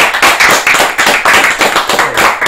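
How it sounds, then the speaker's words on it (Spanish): Loud, close audience clapping at a live rock show, a dense burst of hand claps sustained evenly throughout with little voice beneath. "Un aplauso."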